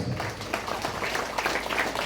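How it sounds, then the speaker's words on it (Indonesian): An audience claps steadily and densely for a village head at an Islamic religious gathering, a continuous wash of applause from a crowd throughout. "Tepuk tangan buat Pak Kades."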